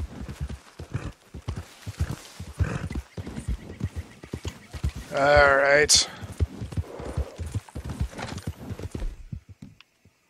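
A horse in Red Dead Redemption 2 clip-clops in a steady hoof rhythm and gives a loud neigh midway, while someone talks over it throughout.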